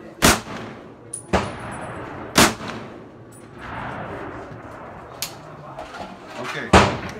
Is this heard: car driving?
no